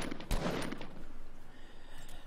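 Cartoony gunfire in Fortnite Battle Royale: a quick volley of soft, fairly quiet shots in the first second, then only faint background noise.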